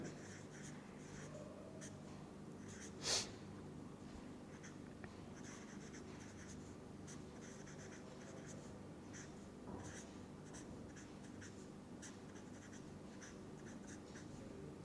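A pen writes chemistry notes in soft scratchy strokes, faint and close, continuing steadily in short bursts over a quiet room hum with one louder tap partway through.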